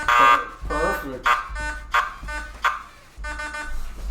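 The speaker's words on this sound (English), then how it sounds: "They have their own buzzer sounds, obviously." Game show buzzers in an NFL trivia quiz sound in a string of short, harsh, repeated bursts, mixed with voices talking.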